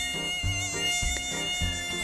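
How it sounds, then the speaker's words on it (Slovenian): Mosquitoes buzz around, a steady high-pitched whining hum that persists without break, close and prominent over a faint low rumble. "In vsi ti komarji, ki so ga obletavali,"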